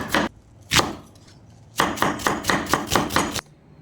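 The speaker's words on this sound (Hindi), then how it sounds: "अब फटाफट काट लेते हैं हम प्याज।" Onions being chopped quickly for a Bihari-style jackfruit curry, two separate knife strikes on a board followed by a fast run of about eight loud, close, evenly spaced chops.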